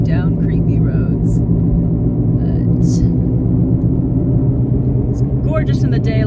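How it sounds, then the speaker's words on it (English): A car driving home along a road at night gives a steady low engine and road rumble from inside the vehicle, with a voice heard briefly over it. "Nothing like driving home down creepy roads."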